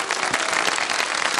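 A studio audience at a kids' television segment applauds, a brief, loud, continuous wash of clapping throughout.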